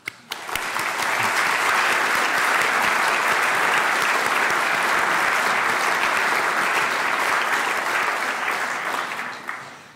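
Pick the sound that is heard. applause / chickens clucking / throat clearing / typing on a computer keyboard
applause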